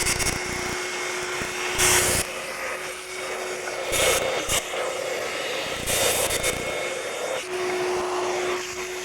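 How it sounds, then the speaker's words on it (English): A vacuum cleaner runs steadily and fairly loud for the whole stretch, with brief surges as the nozzle sucks up alginate debris during a head-casting session, and no one speaks. "Now we'll just vacuum this up."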